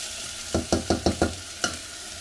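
Food being stirred in a pan: six quick scraping knocks in a rapid run and then one more after a pause, set against a faint sizzle, close by with no voices.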